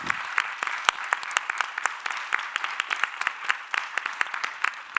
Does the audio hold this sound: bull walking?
no